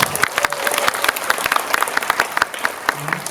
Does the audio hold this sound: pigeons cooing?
no